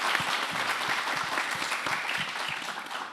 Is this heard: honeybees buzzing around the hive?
no